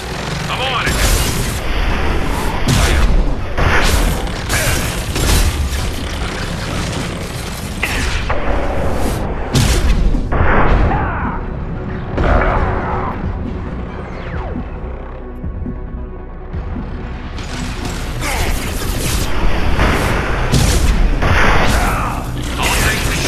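Combat in the video game Mass Effect 2, with repeated gunfire, booming explosions and mechanical clatter filling the scene, loud and dense, while voices call out over the action.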